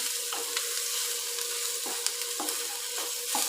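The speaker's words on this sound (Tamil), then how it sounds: "நல்லா ஒரே மாதிரி கிளறி விட்டுக்கலாம்" Colocasia (taro) pieces fry in a pan with chilli powder, a steady broadband sizzle running throughout while a spoon scrapes and stirs in several distinct strokes, close and moderately loud, no talking.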